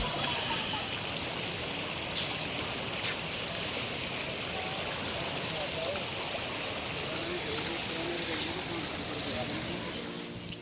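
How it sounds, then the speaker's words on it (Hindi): Rushing water of the Alaknanda river at a ghat in Haridwar, a dense continuous roar of flowing current, close and steady throughout. "आपको ना इस नदी का आवाज़ सुनाता हूँ कि कितना ही सुंदर आवाज़ इस नदी से आ रहा था"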